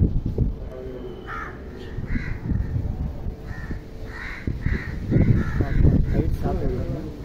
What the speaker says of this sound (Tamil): காக்கா பழம் மேலேருந்து கத்தினே இருக்காங்க